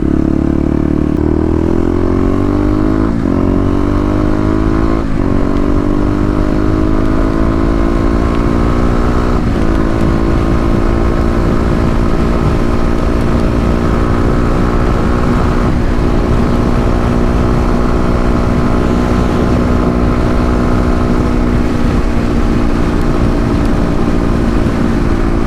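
A Kawasaki KLX250 with Stage 1 modifications cruises at highway speed, its single-cylinder engine droning steadily with a rising tone and loud wind rush throughout, close and constant.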